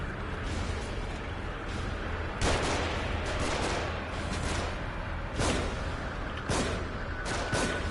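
Gunfire in The Evil Within's AKUMU mode: several sharp, loud shots crack out at irregular intervals over a dense, rumbling background of combat noise.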